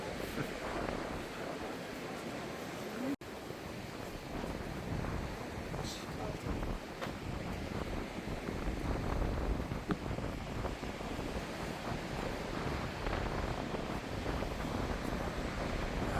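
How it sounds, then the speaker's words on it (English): Surf breaking on the cold German Baltic coast, a steady broadband wash of waves with gusty wind buffeting the microphone throughout, continuous and fairly close. "Look at those waves crashing."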